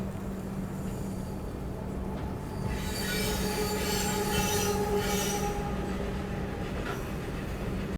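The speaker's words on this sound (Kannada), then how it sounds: "ಕಲಬುರ್ಗಿಗೆ ಎಂಟ್ರ್ ಆಗೈತೆ ರೀ ಟ್ರೈನ್" The Pune to Kanyakumari Express rumbles into Kalaburagi station with wheels squealing sharply on the rails, the screech swelling in the middle and fading toward the end.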